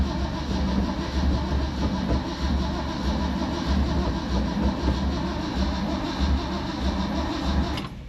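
An old truck engine being cranked and started with the clutch pressed: a loud, steady mechanical rumble of turning over and running, close and continuous, with no talk.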